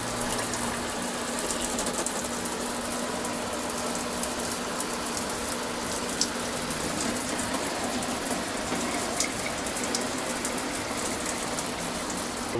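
Water gushes steadily from the shower of a KZ 180 toyhauler travel trailer as pink antifreeze is flushed out, a dense constant hiss with no pauses.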